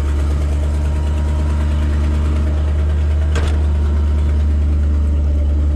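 An auction crane truck's engine runs steadily at slightly raised throttle to drive the PTO, a constant low close drone with no break and one brief click partway through.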